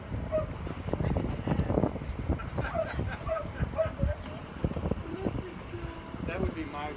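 Several dogs bark, yip and whimper repeatedly among rescued dogs and cats arriving in Ft. Pierce, overlapping close and far, mixed with a steady background fan-like hum and nearby talking.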